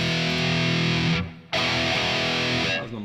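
Music with reverb applied from a music app's rack effects plays loud and sustained, cutting out briefly near the middle, then resuming before fading at the end.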